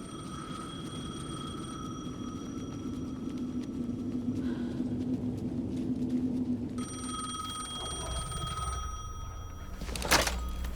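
A telephone rings in the video game Alan Wake 2 with a steady electronic tone that sounds in two long stretches, broken by a pause, over a low, rumbling ambient drone.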